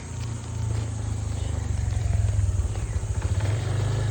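A motorcycle engine runs steadily with a low, throbbing rumble that grows slightly louder, close by and alone, with no talk over it.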